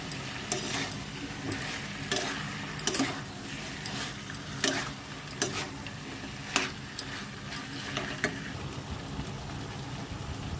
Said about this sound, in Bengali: এবারে এটাকে কিছুক্ষণ আমি কষে নেবো